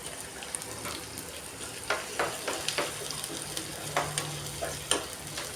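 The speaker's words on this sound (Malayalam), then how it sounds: "ഇതിലേക്ക് ചെറിയ ഉള്ളി ഇട്ട് വഴറ്റി കൊടുക്കാം." Small shallots sautéing in a pan for chicken kondattam, a steady close sizzle with soft stirring scrapes and a few brighter bursts, no voices.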